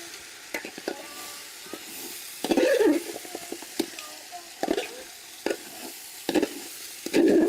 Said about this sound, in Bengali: আর মাঝে মধ্যে নাড়তে হবে যেন নিচে লেগে না যায়